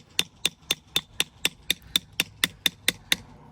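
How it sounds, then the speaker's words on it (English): A brick hammer strikes stone being dressed for a retaining wall, eleven sharp, evenly spaced blows ringing out close and loud with no other sound between them. "I like using my brick hammer as well"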